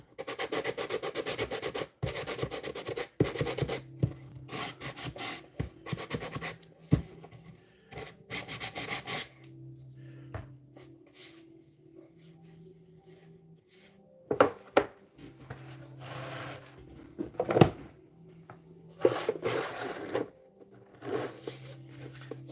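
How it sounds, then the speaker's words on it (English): Scratchy rubbing strokes of sandpaper on a hard 3D printed part, brisk and close at first, then quieter intermittent scrapes with soft gaps between. "the sanding scratches gives the epoxy a really good surface for bonding"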